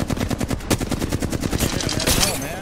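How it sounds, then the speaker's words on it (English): Rapid automatic gunfire in an Apex Legends-style battle royale match, a dense loud stream of shots with brief gaps and a short louder blast partway through, continuing to the end. "I'm shooting the Gibby. Shoot the Gibby now."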